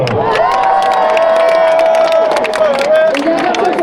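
A large crowd cheers and applauds at the Tour de France 2025 team presentation as a former German champion cyclist is introduced, a loud, sustained roar of clapping and shouting under a voice speaking over it.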